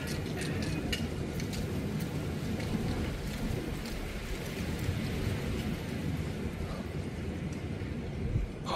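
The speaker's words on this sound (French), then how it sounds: "Mon Dieu, les rafales." Strong wind gusts roar steadily through a sandstorm, a dense broadband rush that stays loud and close throughout, swelling slightly near the end, with no clear speech over it.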